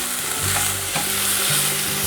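Carrots and black fungus are stir-fried in a pan, a loud continuous sizzle with quick stirring scrapes running through it.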